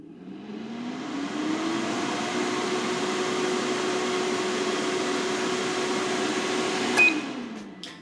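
A Tefal Easy Fry XL 4.2L air fryer gives a steady mechanical whir with a low motor hum running continuously, starting up and ramping down near the end, with a brief click before it winds down.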